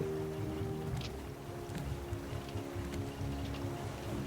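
Motors on a raft in the survival game Raft, heard as a faint, steady low hum with a light watery background texture and no talking.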